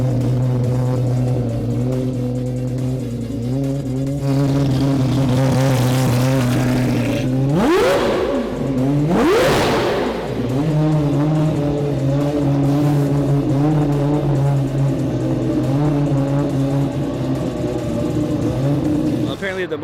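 A car sits on an all-wheel-drive hub dyno, its engine held at a loud steady drone with two sharp rev surges rising and falling near the middle, close and continuous throughout.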